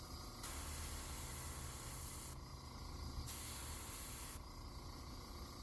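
An airbrush sprays paint onto a fishing lure in close, steady hissing bursts, the airflow pausing briefly and resuming between passes.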